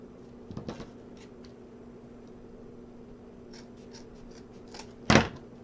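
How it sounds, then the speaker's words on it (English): Scissors snip through the gathered ends of wreath wires, two quick crisp cuts with a long quiet pause between them, close and clear with no talking. "I'm just going to bring the wires together and cut in a V"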